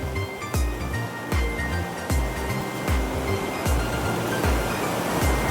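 Ocean waves wash onto Tajpur beach in a loud, close, continuous surf roar, with regular low thudding pulses and no talk.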